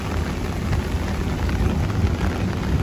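Rain falling on a crowded Singapore outing, a dense continuous hiss with low rumble that swells slightly toward the end, close and steady without speech.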